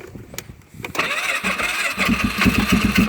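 A Polaris Sportsman 500 ATV engine, after sitting a while, cranks briefly, then catches and runs with a rough, sputtering idle, close by and fairly loud.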